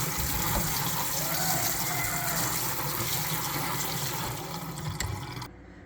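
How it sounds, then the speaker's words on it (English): Key limes rinsed under a running kitchen tap, a steady close rush of water splashing into a sink that continues without talk and cuts off abruptly near the end. "we are gonna start by rinsing the key limes."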